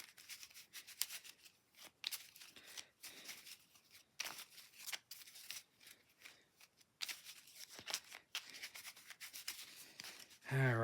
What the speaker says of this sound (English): Shuffle this up real quick.